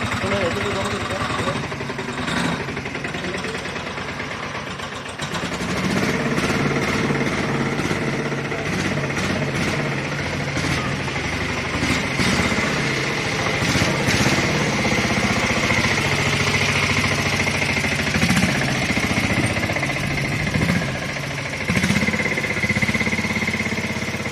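An auto rickshaw engine chugs and rattles steadily while the vehicle drives along, a close, loud mid-pitched thrum that picks up after a few seconds, with someone talking over it.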